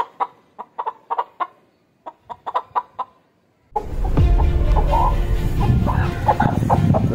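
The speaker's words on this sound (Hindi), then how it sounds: "तो ये देखें माशाल्लाह मुर्गी ये है" A hen clucks in short, quick bursts in a quiet setting, then a broad, noisy background rushes in with occasional clucks still audible.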